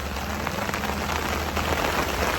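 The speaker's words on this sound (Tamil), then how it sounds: "செம்ம மழைங்க நம்ம ஊரில் போட்ட மழை நிற்கவே இல்லை" Heavy, unrelenting rain pouring down on a village home during a storm, a dense, steady hiss with scattered drops striking surfaces close by and no voices.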